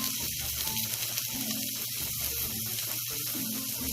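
Onions sautéing in a pan with crushed ginger and garlic for an egg drop curry, a steady close sizzle and frying hiss throughout with faint clinks and stirring.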